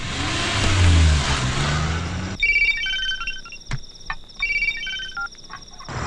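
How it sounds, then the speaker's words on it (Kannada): A mobile phone plays a bright melodic ringtone that loops in short repeated phrases, following a burst of revving car engine noise. "ಬಾಲನ್ ಫೋನು ಹೆಂಗೆ ಸೌಂಡ್ ಬರ್ತಾ ಇದೆ"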